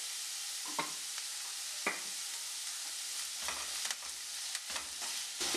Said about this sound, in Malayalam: സവോള നമുക്ക് നല്ലതുപോലെ ഒന്ന് വഴറ്റിയെടുക്കണം